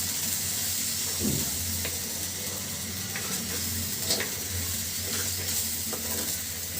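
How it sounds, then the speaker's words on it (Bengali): Rice fries in oil in a pan for beef polao, a steady close sizzle broken by scraping stirs every second or so, with no talking. "চালটা খুব সুন্দর করে ভাজি করে নিব।"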